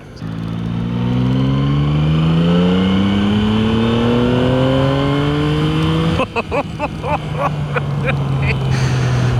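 A motorcycle engine revs up steadily, its pitch climbing as it accelerates, then shifts and drops into a rougher, choppier drone; loud and close.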